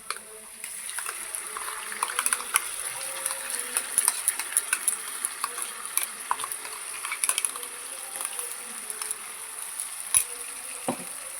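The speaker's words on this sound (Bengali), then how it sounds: "এটা দিয়ে ভালো করে ভেজে নেব। ভালো করে এটা নেড়ে চেড়ে ভেজে নেবেন" Ginger, garlic, onion and mustard paste frying with browned onions in a pan, a soft steady sizzle with scattered scraping stirs and clinks, faint and close throughout.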